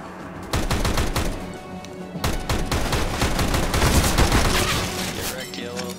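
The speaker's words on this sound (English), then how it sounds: "I love how we both turned on burst fire at the exact same time." Burst-fire rifle shots in Counter-Strike: Global Offensive, loud dense rapid volleys of gunfire in close succession with a short gap, continuing in sustained bursts that fade slightly at the end.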